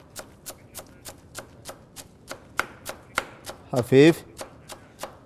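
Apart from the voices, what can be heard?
knife finely chopping fresh dill and mint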